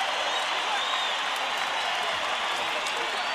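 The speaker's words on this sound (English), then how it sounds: "As the mariachi band departs to thunderous applause." Dense, even roar of clapping and crowd noise filling a boxing arena as a mariachi band departs before the De La Hoya versus Kamau fight, sustained and fairly distant with no break.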